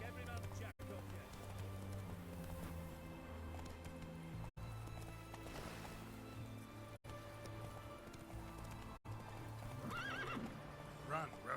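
A horse named in the Witcher 3 video game gallops with steady clip-clop hoofbeats and neighs loudly, under game music and a voice speaking over it.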